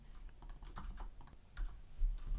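Someone types on a computer keyboard in a quiet room while coding, producing quick, irregular clicks and key taps close by, with no voices.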